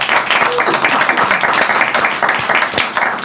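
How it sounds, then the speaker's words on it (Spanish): Studio audience applause rings out loud and steady for the whole stretch, a dense wash of many hands clapping at once with no break. "¡Cabecera y aplauso!"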